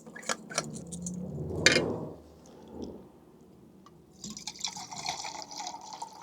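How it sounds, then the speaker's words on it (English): Water poured from a US GI canteen into a mug, heard as a few sharp clinks and drips, then a short splash, a pause, and a longer, brighter trickle near the end, with no talk. "Pour some water into the mug"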